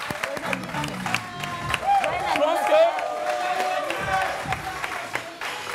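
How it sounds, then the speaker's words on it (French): Audience clapping on a French live TV debrief show, scattered applause for a birthday running under someone talking throughout, moderately loud and close. "On peut applaudir pour lui, s'il vous plaît."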